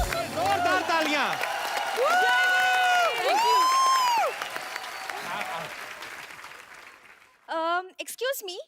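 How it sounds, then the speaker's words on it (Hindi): Applause from the studio audience of The Kapil Sharma Show fills the room, mixed with whoops, shouted voices and bright musical stings, loud at first and thinning out toward the end. "जोरदार तालियां।"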